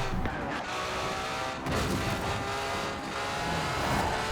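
A red Ferrari 599XX Evo drives at speed in the racing game Forza Horizon 4, its engine giving a loud, steady, dense roar with slight surges, heard alone throughout.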